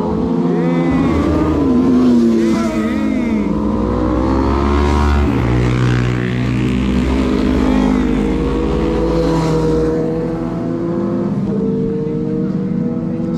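A Suzuki GSX-R 1000, a 1000cc sport bike, revs loudly and close up, its engine pitch sweeping up and down in repeated throttle blips and sustained roars.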